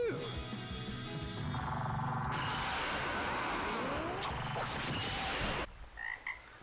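In an animated battle, a giant frog lets out a loud, continuous roaring croak under dense battle effects and a voice, then cuts off sharply into quieter scattered sounds.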